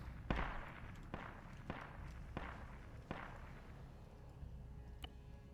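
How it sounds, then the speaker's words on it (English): Distant explosions thud at irregular intervals, roughly six dull booms spread over a few seconds, in a military video game with an otherwise quiet background and no talk. "we have an odd quiet, except for some distant explosions"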